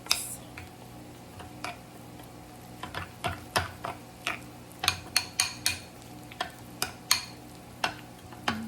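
A spoon mixes Greek yogurt filling with pepper and salt in a bowl, giving a run of quick, close clicks and scrapes that speed up into a steady rhythm, with no talking.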